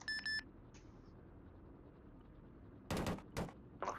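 Video game gunfire aimed at dismounted troops in a military vehicle game, a couple of short distant shots near the end after quiet rumble and a few electronic beeps.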